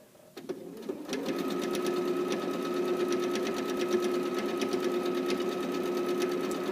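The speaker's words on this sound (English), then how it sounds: "So I'm going to start sewing, and I'm going to backstitch, and then I'm going to sew a straight line all the way around the outside, of my casing" Sewing machine stitching a straight line around the outside of a shorts waistband casing, starting after a brief backstitch, then running in a steady, close, continuous whir with a rapid needle rhythm.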